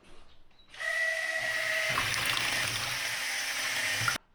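Concentrated primer being mixed with water in a measuring bucket, a steady whirring and sloshing that starts abruptly, runs for about three seconds close up and then cuts off, with no talk over it.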